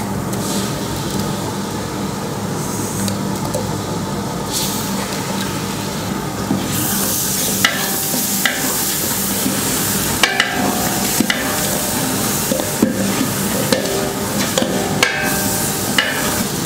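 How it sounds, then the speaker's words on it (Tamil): Ginger garlic paste, ground from half a kilo of garlic and 400 grams of ginger, sautés in a large pot for mutton biryani feeding 40, with a steady sizzle, a metal spoon clanging and scraping against the vessel at intervals. "இஞ்சி பூண்டு போட்டு வதக்கியாச்சு."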